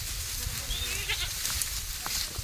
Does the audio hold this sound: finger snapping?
no